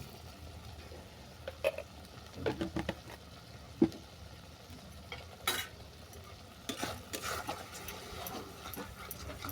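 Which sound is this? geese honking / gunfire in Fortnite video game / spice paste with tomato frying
spice paste with tomato frying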